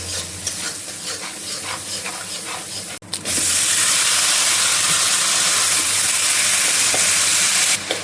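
Spice paste frying in a pan, a moderate crackling sizzle that suddenly bursts into a loud, dense hiss when water is sprinkled in, then stays loud and steady.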